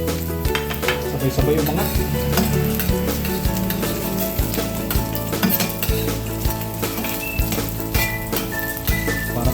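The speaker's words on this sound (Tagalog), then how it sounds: "igigisa na natin sa bawang. Sabay na natin yung sibuyas" Garlic and onion sauté together in a hot pan for a Filipino ginataang sigarilyas, giving a steady loud sizzle broken by the clatter of a utensil stirring against metal, while someone speaks briefly over the cooking.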